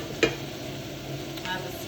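Cauliflower rice tipped into a hot skillet with barely any oil for a leftover T-bone stir fry: a low, steady sizzle runs throughout, with a short soft impact early on and a second brief scrape later.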